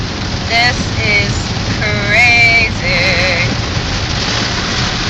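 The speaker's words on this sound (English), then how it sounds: "that means it's raining hard again" Heavy rain pounds a car driving through a Florida thunderstorm, a loud steady broadband roar throughout, with a person talking briefly over it.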